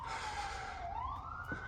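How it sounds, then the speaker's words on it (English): A single siren wails in the distance, its pitch sliding down and then climbing again over a low background rumble. "Sorry for the sirens again."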